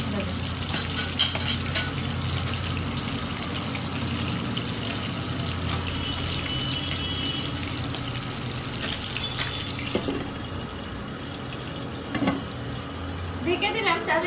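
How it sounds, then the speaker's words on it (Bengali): Tangra fish fry in a pan of hot oil, a dense, loud, continuous sizzle and spatter heard up close, with a faint voice in the background. "দেখলাম ট্যাংরা মাছে ভালো তেল ছিটকাচ্ছে"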